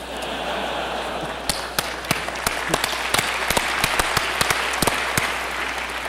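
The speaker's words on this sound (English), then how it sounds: "Let's give a big round of applause for Maurizio." A conference crowd applauds steadily throughout, a dense wash of clapping with a few sharper individual claps standing out.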